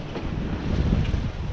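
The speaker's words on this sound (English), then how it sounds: "the ocean swells meet the chop from Queen Charlotte Strait" Ocean swells and gusting wind around a boat rounding Pine Island where the swells meet chop from Queen Charlotte Strait, a steady loud rushing wash with buffeting wind across the microphone and no voices.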